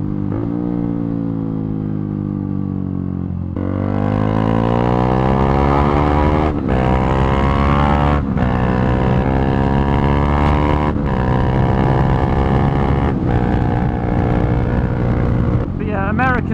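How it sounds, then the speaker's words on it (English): A tractor engine drones loud and steady on a country roadside, its pitch rising as it draws near and passes close, heavy wind buffeting the microphone throughout. "There's a tractor."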